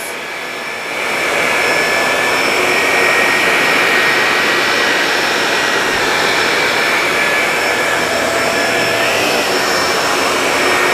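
A Shark Apex DuoClean vacuum cleaner runs over carpet with a loud, steady motor whine and airflow roar, starting up in the first second and then holding constant and close throughout, with no talking.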